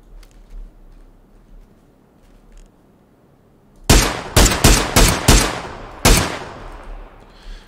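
A burst of close gunfire in PUBG on the Sanhok map: six or seven loud, sharp shots in quick uneven succession after several seconds of quiet ambience, with no talking.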